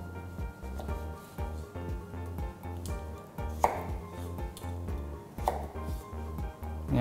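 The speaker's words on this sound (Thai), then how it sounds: "หั่นเต๋า" Knife dicing carrot and other vegetables on a cutting board for a vegetarian sandwich: quick, uneven chops repeat close by throughout, with a steady musical backdrop underneath.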